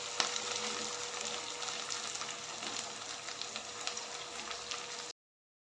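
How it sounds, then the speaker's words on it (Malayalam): Curry leaves and green chillies fry in a pan for fish pickle, a dense, continuous crackling sizzle with small pops throughout, close and steady, ending abruptly in silence. "ഇത് നന്നായി ഒന്ന് വഴറ്റിയെടുക്കണം. കറിവേപ്പില ചേർക്കാം. പച്ചമുളക് ഇടാം."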